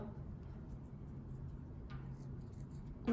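Eraser rubbing across a board in a classroom lesson, a steady soft scrubbing noise held throughout at moderate, close level.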